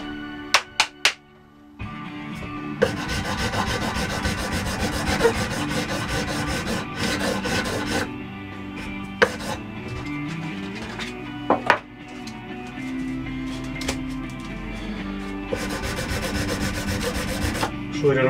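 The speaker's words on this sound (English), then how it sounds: "it's just really rough sanding" Rough sanding of dovetailed wooden knife scales, rounding the corners: steady, close abrasive strokes in long runs, broken by brief pauses and a few sharp knocks of the workpiece.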